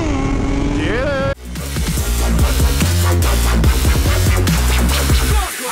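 A motorcycle with an aftermarket exhaust revs hard and close by, in a loud run of quick, repeated rev bursts and shifts after a brief rising whine.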